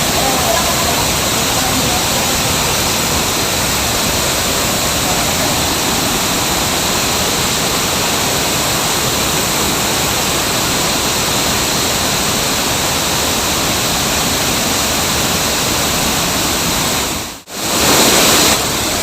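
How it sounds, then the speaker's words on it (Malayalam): Fast-flowing water at a stream bathing spot in Kerala roars loudly and continuously in a dense broadband rush, broken only by a brief dropout near the end. "ഇപ്പം ഭയങ്കര സ്പീഡിലാണ് വെള്ളം വന്നുകൊണ്ടിരിക്കുന്നത്."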